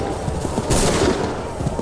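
Musket volley gunfire from the Assassin's Creed III video game, a dense, loud crackling fusillade sustained throughout, swelling into a brighter burst near the middle, with faint shouted commands mixed underneath.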